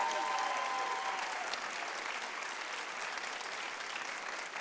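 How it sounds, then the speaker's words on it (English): Steady, dense applause from a theater talk-show audience fills the space, holding at an even level from start to finish with no voices over it. "How about a nice round of applause for these folks?"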